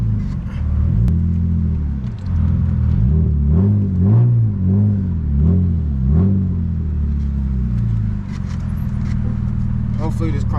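A loud BMW E36 pulls away from a gas station, its engine droning and rising through several revving swells before settling into a steady rumble close by.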